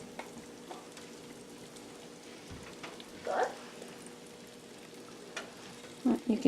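Hot oil sizzles faintly in a pan of beef stew on a wood-burning stove, a soft steady frying hiss with a few brief louder bursts of stirring, quiet throughout and without speech.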